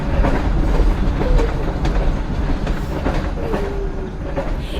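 A moving train rolls along the tracks with a dense, steady rumble and rhythmic clickety-clack from the wheels, punctuated by faint squeals, as an audio story sound effect.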